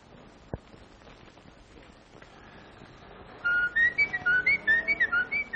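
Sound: whistling notes of reveille

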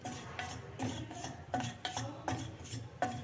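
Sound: sprouted ragi flour being stirred and roasted on low flame

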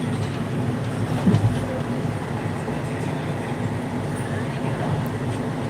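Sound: train running on tracks

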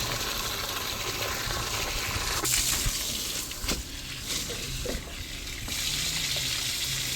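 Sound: washing finger millet (ragi) under running water

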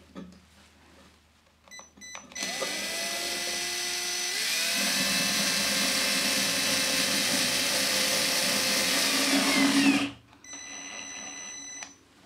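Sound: power drill with right-angled attachment driving plasterboard fixing

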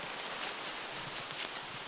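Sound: wind rustling falling leaves

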